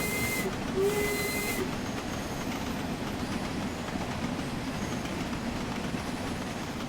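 A Stanier 8F steam locomotive in Train Sim World pulls away on a slight downhill grade, with steady hissing rail rumble throughout and a brief whistle near the start.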